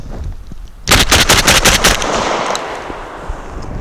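Rapid burst of loud, sharp shots from a Citadel RS-S1 semi-automatic shotgun, about seven blasts in quick succession followed by a lingering outdoor echo and rumble.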